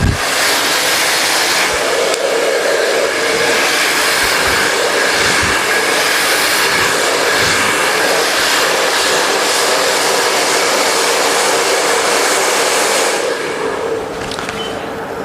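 Hair blow dryer running continuously at close range during an in-turn blow dry on a razor feather haircut, a loud steady whoosh that eases slightly near the end.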